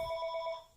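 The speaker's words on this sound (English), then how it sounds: "my phone's ringing here." A telephone rings in a quiet room during a tile floor repair, its electronic bell tone pulsing in short repeated bursts before fading, with no one talking.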